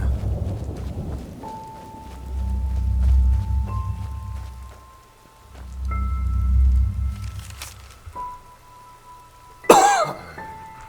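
A person coughs in two drawn-out, rumbling bouts a few seconds apart, low and fairly close, followed by a brief sharp clearing sound near the end over faint background tones.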